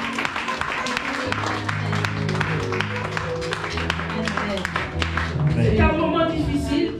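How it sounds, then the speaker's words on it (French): A church congregation claps and cheers in acclaim of Jesus, a dense, sustained patter of applause mixed with voices and music, close and fairly loud. "On acclame Jésus."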